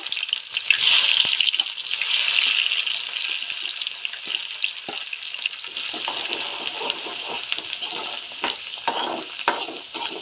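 Chopped onions sautéing in a pan for a fish roe bhurji, a steady close sizzle that swells early then settles, broken by light clicks and scrapes of stirring.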